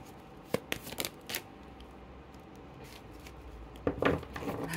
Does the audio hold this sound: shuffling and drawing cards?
yes